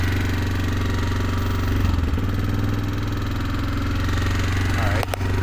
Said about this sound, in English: That is off choke, and it is idling